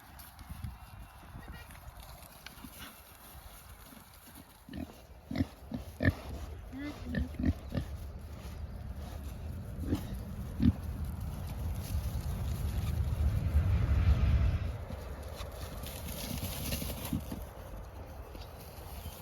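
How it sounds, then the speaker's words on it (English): Pigs on a smallholding grunting and snuffling in short bursts, with knocks and thuds as they move about; a low rumbling swell builds mid-way, and people talk nearby. "Couple of happy pigs."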